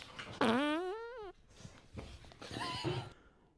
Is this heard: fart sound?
yes